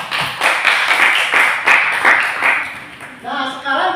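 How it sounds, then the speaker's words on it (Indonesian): A classroom group claps together after a lesson, a dense, steady patter of many hands lasting several seconds before thinning out, with a voice starting to speak near the end. "Oke, tepuk tangan untuk kita semua."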